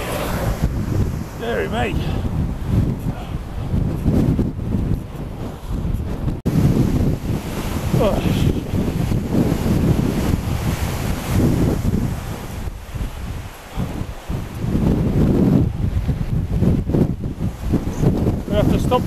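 Strong, gusting wind batters a cyclist's microphone while riding over Shap, roaring loudly and almost continuously, with a brief voice speaking over it.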